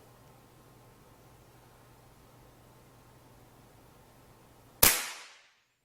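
A Benjamin Maximus PCP air rifle fires a pellet: one sharp, loud crack after several seconds of near silence, decaying quickly.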